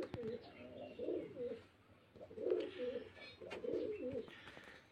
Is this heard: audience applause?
no